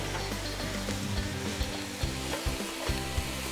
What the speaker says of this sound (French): Je remue un petit peu.